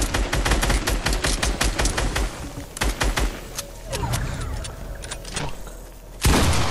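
Rapid video game gunfire, a dense stream of sharp close shots for about three seconds, then scattered bursts and a final loud blast near the end.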